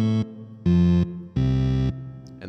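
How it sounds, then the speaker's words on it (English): Three sustained bass pedal notes from the Martinic Elka Panther organ plugin, each a rich buzzing tone held for about half a second with short gaps between, played alone. "I'm just going to have the bass notes, pedal tones"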